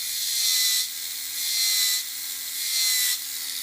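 A Tamiya Mini 4WD motor runs at high pitch while its drive gear is trimmed, whining in three long surges that swell and drop back as the gear is touched and released.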